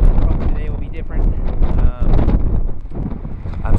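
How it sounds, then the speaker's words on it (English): Heavy wind buffets the microphone in a constant low roar outdoors in Wyoming while fly fishing, with voices and outdoor noise partly buried underneath. "Still windy."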